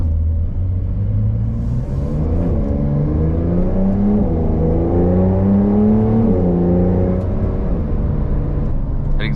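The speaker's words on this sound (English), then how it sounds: "The exhaust sounds really nice as well. It's got the smallest burble to it." A 2021 Porsche 911 Carrera 4S engine and exhaust rise in pitch under hard acceleration, drop sharply at a quick gear shift, then keep pulling with a loud, close, steady rumble and no talk.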